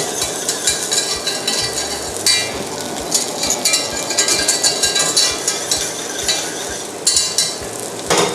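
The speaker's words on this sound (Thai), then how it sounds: "นี่ผมก็เคี่ยวซอสนะฮะตีให้มันข้น" Cream sauce simmering in a pan while being whisked briskly, a steady rapid metallic tapping rhythm over a continuous bubbling sizzle, close and loud with no talking.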